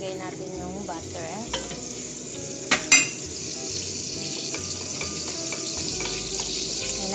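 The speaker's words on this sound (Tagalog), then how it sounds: "Lagay natin yung butter." Butter melting into a hot oiled pan while making spicy lemon chicken, a continuous close sizzle with stirring, a few sharp clinks of utensil against the pan partway through, no voices.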